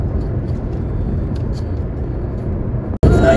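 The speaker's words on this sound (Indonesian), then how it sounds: "Lebih banyak truk sama bus ya untuk di tanggal 25 ini." Steady low rumble of highway traffic with many trucks and buses, heard from inside a moving campervan as a continuous broadband roar, cut by a sudden jolt near the end.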